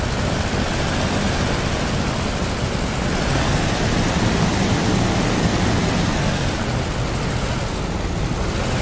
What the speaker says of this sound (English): God, it's loud. The canopy's not closed.